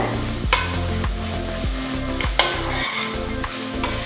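A spoon scrapes and stirs through chicken curry in a frying pan with steady sizzling, a few sharp clanks against the metal, no voices.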